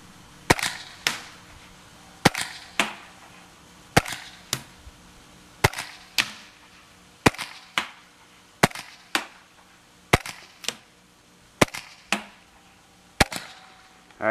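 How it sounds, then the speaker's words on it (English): Pistol fire at an outdoor shooting range, about ninety feet from the target: sharp single shots, usually in pairs, at a steady pace. Each crack rings and decays briefly, and no one speaks. "I'm now 90 feet away, got another mag, and we're gonna fire this baby again."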